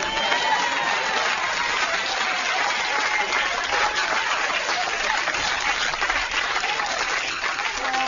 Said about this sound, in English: Give her a big round of applause, everybody.